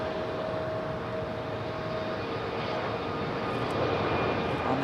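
A Copa Airlines airliner at Raleigh-Durham International Airport, a steady distant engine roar with a faint whining tone, gradually growing slightly louder.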